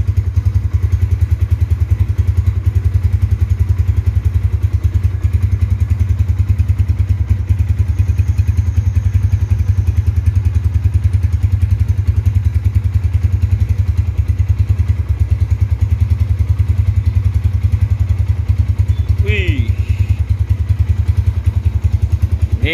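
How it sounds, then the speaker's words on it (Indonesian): A 2007 motorcycle engine runs steadily at close range, a continuous loud low drone with rapid pulsing exhaust and no clear revving changes, heard alone throughout. "Hey Mas Pur, motornya nih bring banget."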